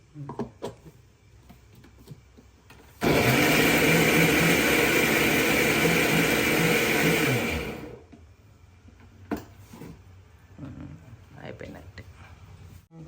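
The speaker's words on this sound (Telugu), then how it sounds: "మనం మిక్సీ అయిపోయింది సో పేస్ట్ అయితే మంచిగా ఇలా పేస్ట్ చేసేసాం" A kitchen mixer grinder blends destemmed red chillies into a paste: a loud, steady whirring roar runs for about five seconds, then winds down, with quieter handling noises and voices before and after.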